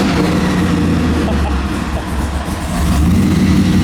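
An LS-swapped Volvo making 800 horsepower roars loudly and continuously up close, the engine noise thick and steady with a slight swell near the end.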